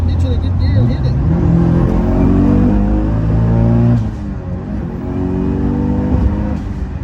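A car accelerates hard in gear, its engine note climbing steadily and loud from inside the cabin, shifting once and building again, with people talking over the roar.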